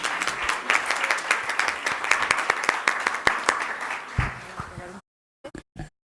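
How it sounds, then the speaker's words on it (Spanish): Audience applause fills an online conversation on political gender violence, dense clapping sustained for about four seconds before cutting to silence, followed by a few brief short sounds. "Un aplauso, por favor"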